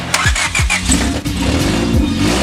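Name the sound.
race car engine starting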